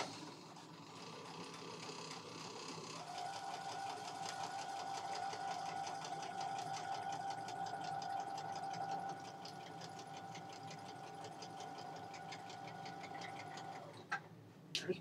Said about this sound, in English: I'm over here focused on sewing